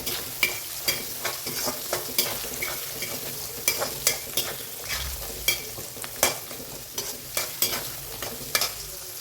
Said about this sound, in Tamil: இது நல்லா வதங்கணும் ஆயிலில்